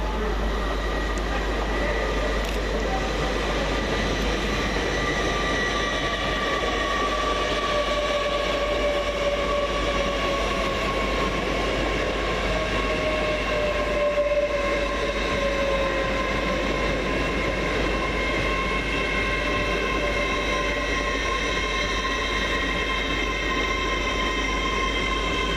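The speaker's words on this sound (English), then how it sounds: "Arriving on platform 11 is 800 312, working the 1247 Great Western Railway service from Swansea to London Paddington." A Great Western Railway class 800 train, unit 800 312 on a Swansea to London Paddington service, pulls into platform 11 at Reading station with a steady rumble and rising motor whine, continuous and fairly close, with faint station ambience and occasional voices.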